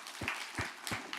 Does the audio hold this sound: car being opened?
no